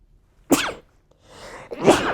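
A person sneezes twice at close range, the first a sharp, explosive burst, then a breathy intake before a second strong sneeze, with no talking in between.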